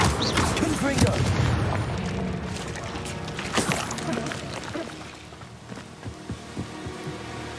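Confringo fire-blast spell in Hogwarts Legacy, a video game: a loud booming blast with a rumbling tail that slowly fades, followed by scattered crackles, with a voice speaking over it.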